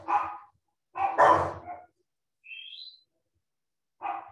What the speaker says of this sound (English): Uh-oh, some dogs barking.